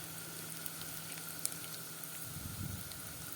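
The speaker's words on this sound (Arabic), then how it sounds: "هنفضل نقلب في الرز كده لحد ما يبقى كل حبايه لوحدها كده منفرده بنفسها" Rice stirred as it fries in a pan, a soft steady sizzle with faint scraping, low and continuous, growing a little busier near the end.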